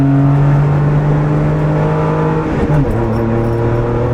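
A car driven flat out on a Nürburgring lap, its engine note loud and steady with clear harmonic tones that dip briefly mid-clip as a gear changes, then pull on again, no voices.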